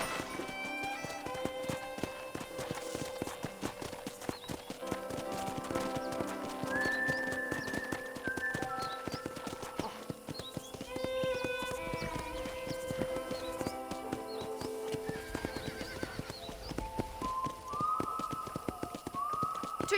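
A horse trots steadily through a ranch in Red Dead Redemption, its hooves clip-clopping in a continuous rhythm for a long stretch, with occasional whinnies and a musical, tonal score running over the hoofbeats.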